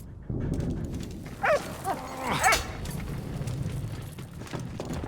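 A dog in the World War I video game Valiant Hearts gives a few short barks and yips near the middle, over a steady low game background with no talk.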